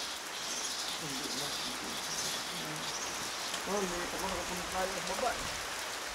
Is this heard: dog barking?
no